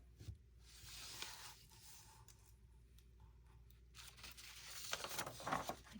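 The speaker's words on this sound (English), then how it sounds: "I think I'll go ahead and just tear this piece" Paper is torn by hand in a few quiet, drawn-out rips with faint crinkling between them, close and soft, with no talking.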